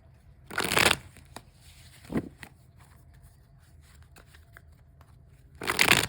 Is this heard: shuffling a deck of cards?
yes